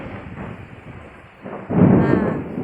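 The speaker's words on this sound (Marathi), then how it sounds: "गडगड गडगड येऊन राहिला आहे आवाज मस्त" Thunder rumbles through the first monsoon downpour, a steady low roll that swells suddenly louder partway through, with no voices.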